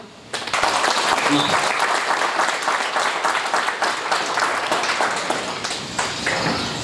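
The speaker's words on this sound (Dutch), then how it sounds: "alvast een groot applaus voor de cursisten" A crowd at a certificate ceremony gives the course participants a big round of applause, dense steady clapping that starts abruptly and continues loudly throughout, with a brief voice near the start.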